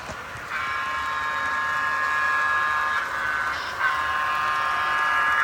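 A steady, high-pitched whistle tone from a Broadway Limited Imports PRR boxcab model locomotive sounds continuously over a low mechanical hum, holding for several seconds with a brief dip partway through.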